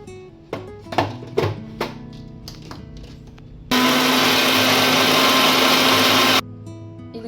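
A kitchen mixer grinder blends tomato coriander chutney with jaggery in a steady loud whir of about three seconds, after a few knocks and clatters as the jar is set in place.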